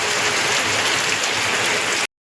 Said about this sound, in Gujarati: ને જો વરસાદ દેવા માંડ્યો, હટી હટીને ફૂલ જો નેવા ચાલુ થઈ ગયા હતા